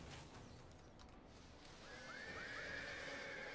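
Horses in a Rome 2 Total War battle whinny and neigh, several high, wavering calls rising near the end over a steady background rumble of the fight, with faint hoof clatter.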